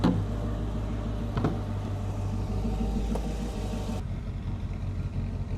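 A Malibu boat's Indmar inboard engine idles steadily during winterization, a constant low rumble that drops slightly in tone near the end.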